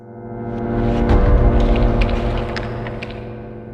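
A low, tonal whoosh swells and then fades away, a Minecraft failed-hazard sound. Faint crumbling and crackling patter runs under it, with no voices.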